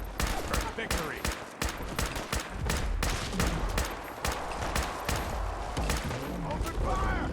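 Rapid bursts of gunfire crackle through a firefight in the video game Fallout 4, dense sharp shots repeating irregularly throughout, with voices talking over parts of it.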